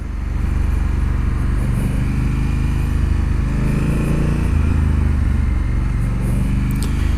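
A Honda Africa Twin on a test ride gives a steady, loud engine drone mixed with wind rush, swelling and rising in pitch midway as the bike accelerates.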